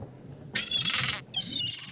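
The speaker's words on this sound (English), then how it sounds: "Yeah, we've pissed off the seagull." A seagull in The Secret of Monkey Island lets out two harsh, loud squawks, the first longer and the second following after a short gap, with no talking.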